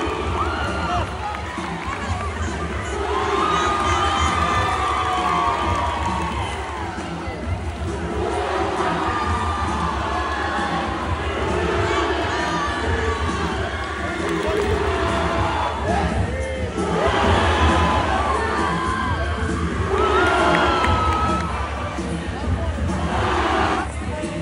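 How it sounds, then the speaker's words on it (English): A school pep rally crowd screams and cheers continuously, a dense, loud roar of many young voices swelling in waves throughout. "why are people screaming?"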